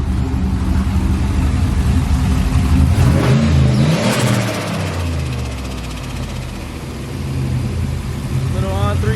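A car with a turbocharged engine and new custom Forgiato wheels revs up, the engine note swelling loudly then settling to a steady idle, with people talking over it.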